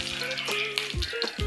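Two spoons of oil heat and sizzle in a pan for Andhra spice chicken, a close, steady frying hiss with short crackles and a few brief tonal clinks over the top.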